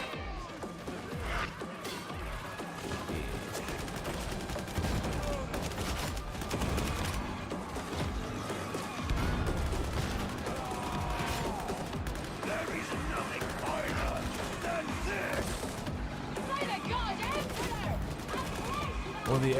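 Warhammer 40,000: Darktide gunfire crackles continuously through a busy, cluttered battle mix, with bursts of shots, mechanical clatter and crashes under voice chat.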